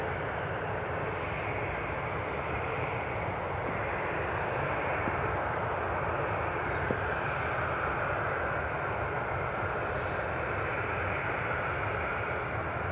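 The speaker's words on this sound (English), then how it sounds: "And there's a Logan Air taxiing behind the British Airways." A Loganair aircraft taxis at Newcastle Airport, its engines giving a steady, loud, broadband roar and whine that holds evenly with no speech.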